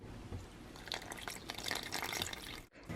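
Vegan buttermilk poured slowly into biscuit dough, a soft continuous trickle and splash of liquid that swells in the middle and stops abruptly near the end, heard close and quiet.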